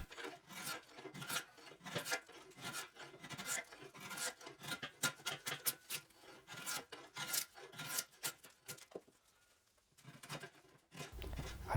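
A draw knife shaves Osage orange wood on a selfbow limb in quick, repeated rasping strokes, close and fairly quiet, with a brief pause near the end.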